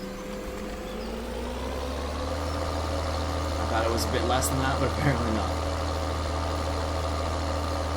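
A tractor engine idles steadily in Farming Simulator 2013, a low, constant drone with a faint clatter in the middle. Someone talks over it throughout.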